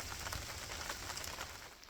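Steady monsoon rain falling at a campsite near the Gilman Tunnels, a dense, even patter of drops on surfaces, fairly close and continuous, with no voices.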